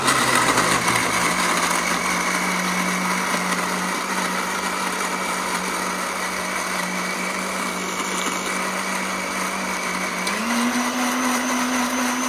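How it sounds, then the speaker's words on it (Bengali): An electric blender grinding spices whirs loudly and steadily, its motor pitch rising slightly near the end. "এখন আমরা এটাকে ব্লেন্ড করে নেব।"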